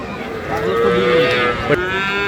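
A dairy cow at a village cattle market gives one loud, close, drawn-out moo that lasts about two seconds and is heard alone, with no voices over it.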